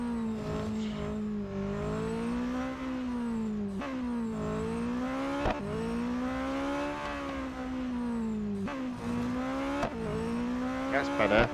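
A race car engine in the Real Racing 3 game revs hard and steadily, its pitch climbing through each gear and dropping sharply at several gear changes, loud and close throughout.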